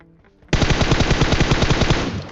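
Rapid automatic gunfire from PUBG Mobile erupts after a brief quiet moment, a loud, dense burst of fast shots that runs unbroken for about two seconds.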